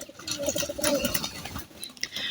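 Pet pigeons coming down to bathe in water: soft, repeated throaty coos close by, several birds overlapping in a murmuring rhythm with light rustles and flutters.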